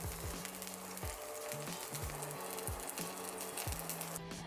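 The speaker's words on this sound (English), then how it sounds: "we're gonna saute the onions. And then I also like to add in my capsicums at this point" Onions and capsicums sauté in a pan for a black pepper beef udon, a soft, steady sizzle with faint spatter, repeatedly interrupted by low tonal hums, quiet and close with no voices.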